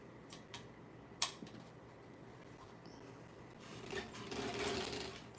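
Sewing machine back stitching a craft piece: a quiet whirring run of stitches with a few clicks early on, building to a denser buzzing stretch toward the end.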